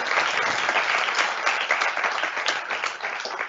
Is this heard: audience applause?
yes